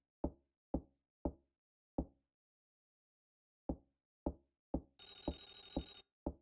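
A telephone rings in the SNES game Clock Tower, a loud electronic trill lasting about a second near the end. It follows a series of sharp, evenly spaced knocks, and one more knock lands while it rings.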